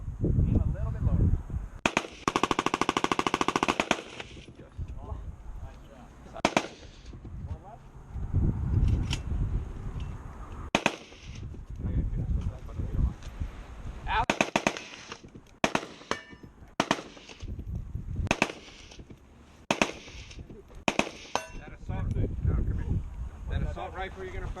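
An automatic rifle fires loud bursts on an outdoor shooting range. One long sustained burst is followed by a string of sharp single and double reports, with people talking in between shots.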